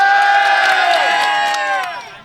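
A crowd at a busy cattle market erupts in loud cheering and shouting, close and dense, fading out toward the end.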